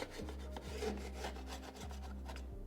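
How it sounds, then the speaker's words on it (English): A scraper drags across drywall joint compound on a corner bead beside a window, making close, rough scraping strokes repeated steadily with faint low hum underneath and no talking. "we have to scrape it when it's almost dry, but not too dry"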